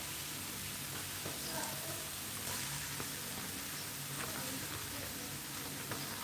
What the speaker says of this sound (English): So let's add our red onions.